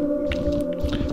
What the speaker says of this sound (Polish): Słyszę zombie.